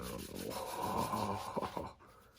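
A cloth rubbing a coat of finish onto wood, a steady soft scrubbing swish for about two seconds, close and fairly quiet, ending with a few brief knocks before fading.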